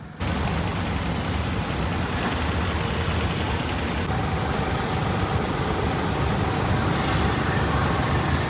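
Car engine idling and running in Chandigarh traffic, a dense continuous rumble of engine and road noise with surrounding vehicle sounds, steady and fairly loud from start to finish.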